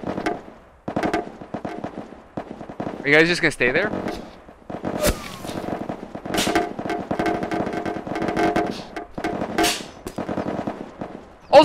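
Rapid gunfire hits a house in the VR game PunjiVR, dense crackling bursts running almost continuously, loud and near, while a person talks briefly over it.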